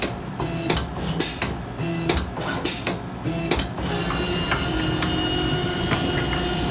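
A frame-cutting machine in a framing shop runs with a sharp rhythmic series of loud clacks and chops over its first few seconds, then settles into a steady mechanical hum with faint ticks.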